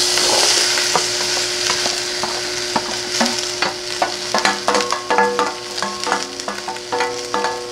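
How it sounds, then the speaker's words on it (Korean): Onions stir-fry in cooking oil in a pan over high heat, a soft background sizzle broken by repeated clacking scrapes of a spatula that grow busier toward the end, heard close with no speech. "자, 여기다 이제 양파를 넣어서 이제 먼저 볶아줄 거예요."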